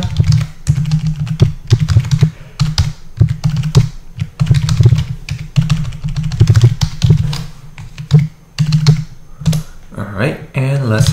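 Java code typed on a computer keyboard, with close, loud bursts of rapid key clicks in irregular runs and short pauses, and a voice briefly speaking near the end.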